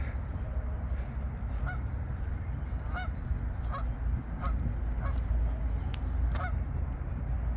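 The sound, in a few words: goose honking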